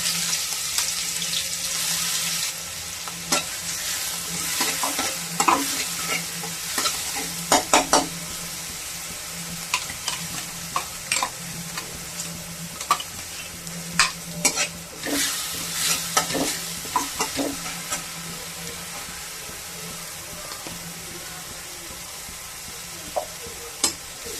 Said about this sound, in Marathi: मिरची छान तळून घेणार आहे आणि त्याच्यानंतर भेंडी टाकायची.